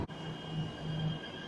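A steady low rumble and hum of an MRT Jakarta metro train arriving at a station platform, with a faint sustained high whine, continuous and moderately loud.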